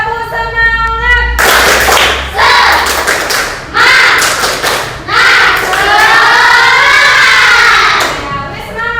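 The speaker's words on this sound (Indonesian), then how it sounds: "Tepuk semangat." Children standing in a classroom do a rhythmic group clap, loud and close, with bursts of patterned hand claps broken by short pauses and shouted chanting voices mixed in.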